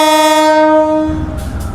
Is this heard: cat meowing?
no